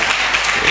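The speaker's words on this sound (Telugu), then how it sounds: "గట్టిగా చప్పట్లు కొడదాం" A short burst of dense applause from an audience at a Christmas celebration in a Christian community hall in Mandapeta, loud and close.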